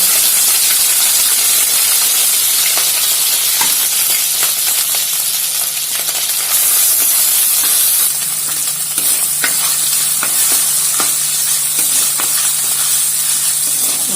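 Ginger garlic paste sizzles loudly in hot oil with fenugreek seeds for a Kerala-style crab curry, a steady close hiss with occasional crackles and spoon stirring throughout.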